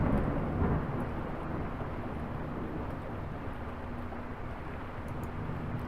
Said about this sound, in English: while the rain falls on the cabin